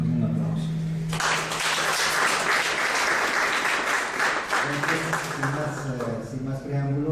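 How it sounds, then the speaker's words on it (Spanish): An audience applauds to welcome a speaker at a talk on a new public companies law, loud sustained clapping that starts after a voice, runs for several seconds, then gives way to someone speaking over its tail. "Les recibimos con un aplauso"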